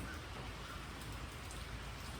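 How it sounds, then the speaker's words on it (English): Rain falls outdoors with a soft, steady patter and hiss on surfaces, faint and even throughout, with no voices. "see if the rain kills us for sound"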